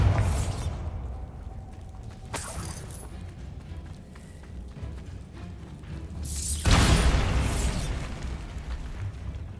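A video game Bombarda explosion spell goes off as a sharp blast followed by a crackling, rumbling burst, with a second louder boom later, set against a quieter stretch in between.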